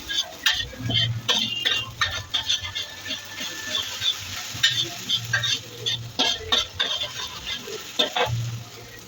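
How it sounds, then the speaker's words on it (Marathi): Cumin and masala being stirred in a frying pan for a spicy tava pulao, with repeated scraping strokes over a steady low sizzle, fairly close and without talk. "जिरा, मसाला टाकून झाले की परत एकदा हलवून घ्यायचं आहे."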